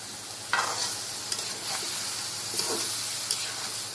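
Bitter gourd sizzles and hisses while frying in a pan, with steady stirring scrapes and a few sharp clinks of the spatula throughout.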